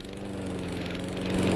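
A lawn mower runs close by at 7 a.m. on a Saturday, a loud, steady engine drone with a buzzing hum that grows slightly louder toward the end.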